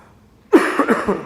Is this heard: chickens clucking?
no